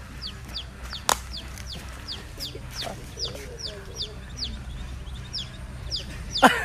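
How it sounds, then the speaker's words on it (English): A baby chicken chirps and peeps in a quick regular series of high notes, close and clear over low background rumble, with a sharp knock near the start and a louder burst at the end. "This little baby chicken was adopted by this duck."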